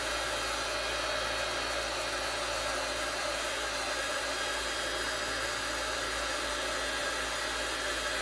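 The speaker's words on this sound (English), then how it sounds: "Sometimes it's good to get your heat tools heated up before you start" A craft heat tool used for embossing runs with a continuous, even blowing roar. It stays close and unchanging for the whole stretch, with no speech.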